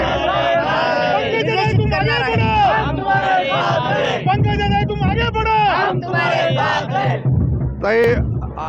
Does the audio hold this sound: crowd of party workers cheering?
yes